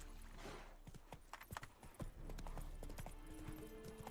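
Roach the horse clip-clops along in The Witcher 3, hoof beats irregular and close, set against a steady low game ambience.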